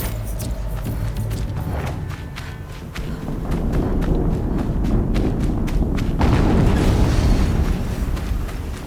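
Explosions in the video game Horizon Zero Dawn: deep rumbling booms with heavy low-end thuds building around the middle and again near the end, layered with debris crackle and scattered impacts, loud and continuous, no speech.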